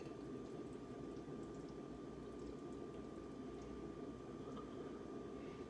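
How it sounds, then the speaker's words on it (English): Green smoothie is poured from a blender into a glass, a soft, continuous liquid pour that runs evenly and faintly for several seconds without any talking over it. "I'm gonna pour myself a glass so we can try it together."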